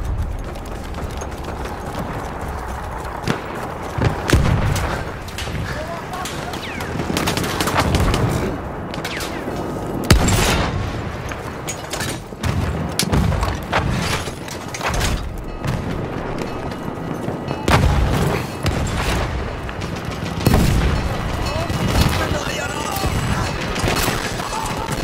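An artillery barrage booms in Battlefield 1 gameplay: heavy low blasts and rumbles strike repeatedly over about 25 seconds, mixed with gunfire and battlefield clatter in a dense, loud wartime soundscape.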